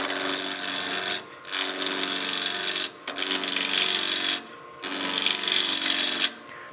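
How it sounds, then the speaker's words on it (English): A spindle roughing gouge cuts into wood turning on a lathe, making a loud, steady rasping scrape in four long passes separated by brief pauses as the tool lifts away. "you always want to work downhill with your spindle rough and gouge"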